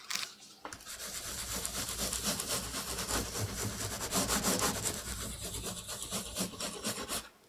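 Suitcase with double wheels rolling along a street in Asakusa, a steady rough rumbling and grinding from the wheels on the pavement that lasts several seconds, fairly close and moderately quiet, with no talking.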